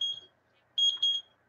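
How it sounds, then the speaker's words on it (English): A kitchen timer beeps while cabbage cooks for a keto meal prep, two faint high electronic beep bursts separated by a pause in a quiet kitchen. "That means the cabbage is done."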